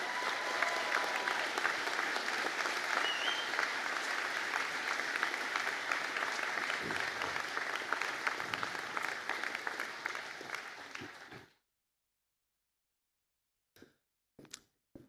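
Sustained applause from a seated audience at a university conferring ceremony greets the forensic investigation honours graduating class, steady and dense for about eleven seconds before cutting to silence, with a few faint taps after.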